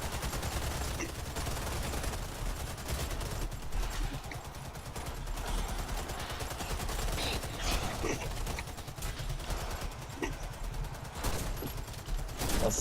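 Rapid bursts of gunfire from the Warface first-person shooter in a cooperative match, continuous rattling fire with mechanical clicks, with no talk over it.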